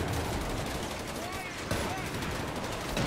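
Halftrack machine-gun fire in Company of Heroes 3, dense crackling bursts of automatic shots mixed with battle noise, loud and continuous across the moment.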